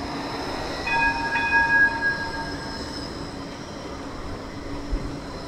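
A Gold Coast G-Link light rail tram passes on the Surfers Paradise line, a steady rolling rumble with a brief high wheel squeal or horn tone early on, moderately near and without talk.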